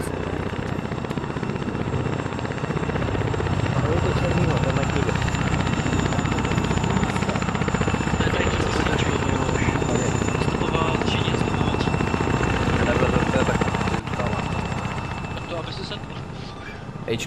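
An ArmA 3 helicopter runs steadily for the whole stretch with a loud, constant rotor and engine roar, and voices talk over it.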